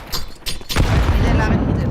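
Flashbang grenade in Counter-Strike: a loud close burst at about 0.75 seconds, followed by sustained rumbling noise, with a few sharp gunshot-like cracks before it and a voice speaking over the top.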